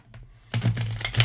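Tarot cards being shuffled close by, a short burst of crisp riffling and slapping after a brief quiet moment.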